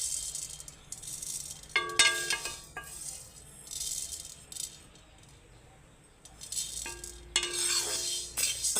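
Black urad dal dry-roasts in a pan while being stirred, producing dry rattling and clinking bursts of grains against metal that come in intermittent clusters, fairly quiet and close, with no talking.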